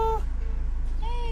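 A catfish gives two brief, tonal meow-like cries, one at the start and one near the end, separated by a quiet gap.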